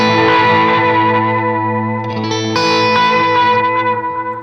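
Electric guitar played through an echo effect pedal set fully wet, sustained chords ringing with layered repeats and a distorted, chorus-like shimmer, loud and continuous with no talking.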